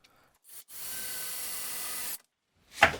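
A power driver running screws into a wooden shop stool, a short whir, then a sustained steady whine for about a second and a half, followed by a sharp final burst.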